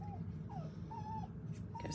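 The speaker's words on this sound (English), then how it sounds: "You can hear my little Peavy crying in the background" A small dog whimpers and cries in the background with a few short, high, wavering whines spread across a low steady room hum.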